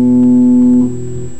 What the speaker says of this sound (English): lastly you have the Locrian mode, which is kind of the weirdest mode that nobody ever uses. It sounds like this.